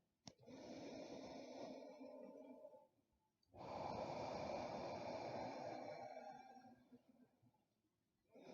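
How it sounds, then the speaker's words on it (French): Long abdominal breaths during a yoga session: two slow, deep, close breaths, each a steady airy rush lasting several seconds, separated by a short pause. "Prends quelques longues respirations"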